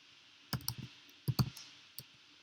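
Keystrokes on a computer keyboard as a command is typed, heard as a few sparse clusters of sharp clicks in quick groups, fairly close and moderately loud against a quiet background.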